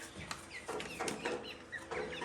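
Chickens in a pen of Orpington and Speckled Sussex hens give repeated close clucks and short calls, several birds overlapping throughout with no voices.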